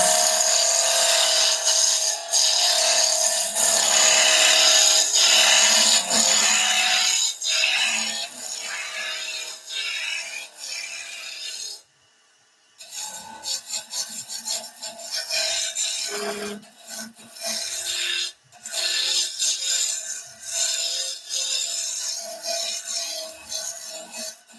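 Wood spinning on a lathe and cut with a skew chisel, a loud hissing, rasping cut that runs steadily, then breaks off briefly and resumes in shorter bursts with small pauses.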